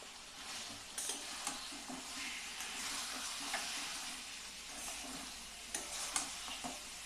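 Kashmiri chili powder and cumin powder fry with chopped tomato in a pan, making a continuous moderate sizzle with occasional soft scraping and knocking from stirring.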